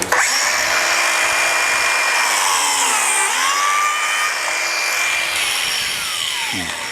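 A Domino or biscuit joiner machine cutting into wood panel stock, a loud, steady high-pitched motor whine with pitch dips as the cutter bites, close and continuous, with no talking.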